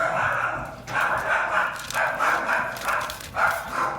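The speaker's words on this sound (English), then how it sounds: "Well, that is Buzz and Lola barking at somebody passing by." Several dogs bark repeatedly in rough bursts, fairly close, with short gaps between volleys.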